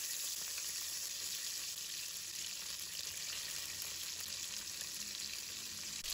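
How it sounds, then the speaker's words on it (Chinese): Fish head and bones, from sea bass, fry in a generous amount of hot oil in a wok: a continuous, even sizzling hiss, fairly soft and steady throughout with no talking. "把它煎至两面金黄"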